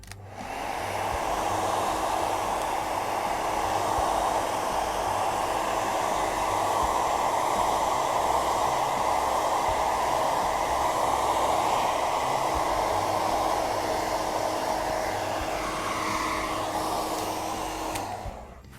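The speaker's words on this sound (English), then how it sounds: "You can also see me rotating the diffuser, especially with this diffuser with longer fingers" Hair dryer fitted with a long-fingered diffuser drying curly hair, a loud, steady, continuous whooshing blow that runs unbroken for the whole stretch, close up and alone.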